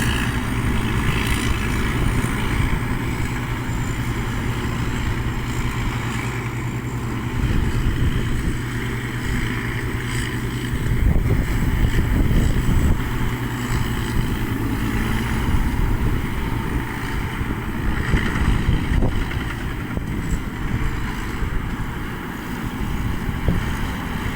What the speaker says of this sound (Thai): ลมมากเลยพี่น้อง